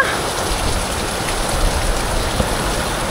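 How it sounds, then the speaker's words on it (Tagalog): Steady rain pours down in a dense, even hiss with no pauses, loud and close. "Ano ba naman na ulan na to?"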